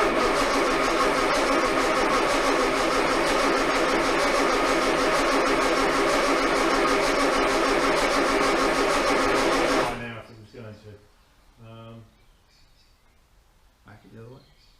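An Armstrong Siddeley Special car engine runs with a loud, even, rapid chatter for about ten seconds, then cuts out abruptly. Quiet talk and a few small knocks follow.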